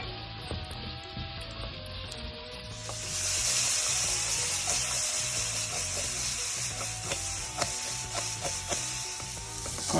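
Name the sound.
mirepoix sizzling and being stirred in pan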